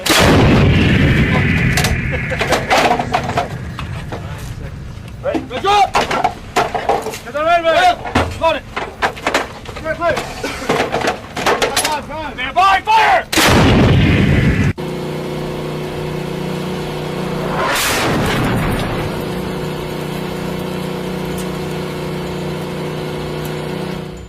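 An M777 155 mm towed howitzer fires repeatedly, heavy booming blasts that each crack and roll away, interleaved with clanks and mechanical handling noise, then a single powerful shot later on.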